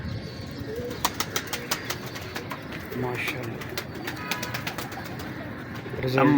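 Red-eyed cross-bred pigeons coo softly in a loft, low repeated calls under a scatter of sharp clicks and flutters, with a voice speaking briefly nearby.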